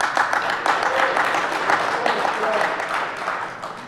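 Applause from a conference audience at a DEFCON awards ceremony, a full burst of clapping that stays fairly even and then tapers off toward the end.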